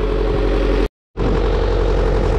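A driverless tractor runs through a field while planting lettuce seedlings, its engine a loud, steady close-up drone that cuts out completely for a moment before coming back.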